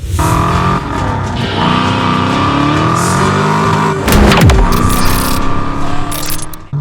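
A procharged 5.0-liter 1990 Ford Mustang GT with a 5-speed manual runs loud and close on a test drive, its engine droning steadily with pitch rising and falling through shifts, then a sharp surge of revving near the end.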